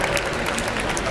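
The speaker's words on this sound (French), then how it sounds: "je vous demanderai un peu plus d'applaudissements s'il vous plaît" Audience applauding at a junior dog handling show, a brief burst of dense, even clapping from a crowd, steady and fairly loud throughout.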